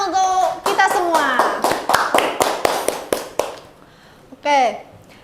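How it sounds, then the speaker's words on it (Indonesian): A small group in a university classroom claps in a sparse, uneven run of about a dozen sharp claps under overlapping speech and laughter, thinning out before a last voice. "beri tepuk tangan untuk kita semua"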